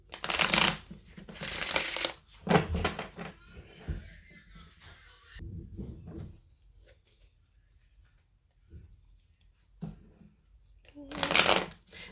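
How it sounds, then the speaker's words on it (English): Tarot cards being shuffled by hand in loud crisp bursts of riffling, with a lull of quieter handling and faint speech between the first bursts and a final burst at the end. "sometimes when I'm shuffling the cards,"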